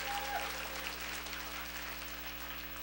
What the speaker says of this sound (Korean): 두 분께 큰 박수를 부탁드리겠습니다.